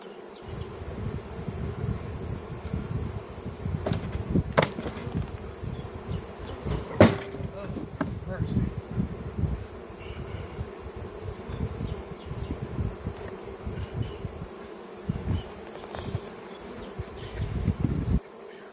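Honey bees buzz around a hive while honey is pulled, with butyric acid applied to drive them off; a steady low drone runs throughout, punctuated by occasional knocks and handling noises.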